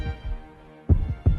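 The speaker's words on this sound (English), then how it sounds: "His heart beating so hard, it was a wonder to him that the whole house didn't wake from the sound." Heartbeat sound effect, three heavy low thumps: two softer ones near the start, then a gap and two loud, close, evenly spaced beats, with no voices.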